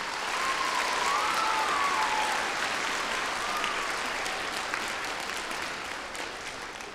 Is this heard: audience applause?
yes